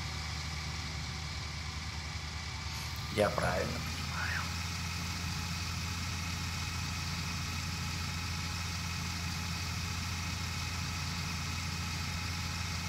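A tractor engine idles in Farming Simulator 19 with a steady, even drone throughout, while someone talks over it partway through.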